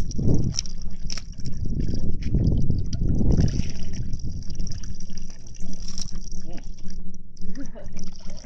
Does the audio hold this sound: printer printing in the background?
no